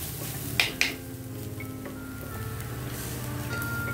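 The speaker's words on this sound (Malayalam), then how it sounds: "ഈ സമയത്ത് നമ്മളിതിൽ ചതച്ച് വെച്ചിട്ടുള്ള തേങ്ങ ഉണ്ടല്ലോ, ആ തേങ്ങ ഇതിലേക്ക് ചേർത്ത് കൊടുക്കുകയാണ്" Crushed coconut blended with chili powder, turmeric and green chili hits a hot pan, a couple of sharp clatters of utensils followed by a steady soft sizzle while it is stirred.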